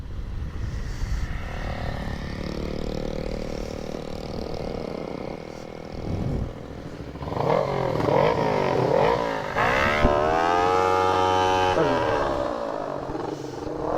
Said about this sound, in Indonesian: Gue pengen nyari RPM yang pas coba buat motor ini.